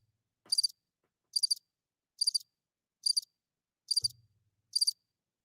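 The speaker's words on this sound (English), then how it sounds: "Crickets." Crickets chirp from a sound-effect button in six evenly spaced bright trills, clear and isolated against silence, with a brief low thump near the end.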